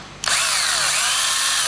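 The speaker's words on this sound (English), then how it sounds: "you can come in and pre-drill" A power drill bores a pilot hole into a round column for mounting a bracket, starting abruptly and then whining steadily and loudly at close range, with no voices.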